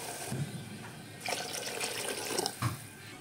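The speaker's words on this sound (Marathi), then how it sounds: "आता आपण पाणी टाकूया गरम केलं" Hot water poured into a pot for Khandeshi khichdi, a steady splashing stream running throughout at close range with a couple of louder gushes, no voices over it.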